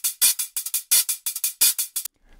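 A hi-hat loop heard clean and unwarped: crisp, bright ticks and short open hiss in a steady syncopated pattern, about a dozen hits over two seconds, loud and close, stopping abruptly near the end.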